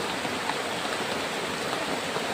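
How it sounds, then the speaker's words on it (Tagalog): Heavy rain pours down steadily outdoors, a dense, even roar of drops close around the microphone with no pauses or voices. "Sobrang ulan dito tol."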